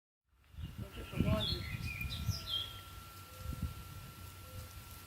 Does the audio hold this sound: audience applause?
no